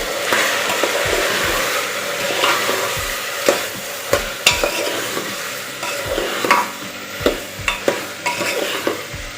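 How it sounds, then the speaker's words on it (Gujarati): A spoon stirs chori beans and potato curry with spices in a frying pan over a soft steady sizzle, with repeated knocks and scrapes against the pan that grow more frequent toward the end. "હવે બધું વ્યવસ્થિત આપણે મિક્સ કરી દઈશું।"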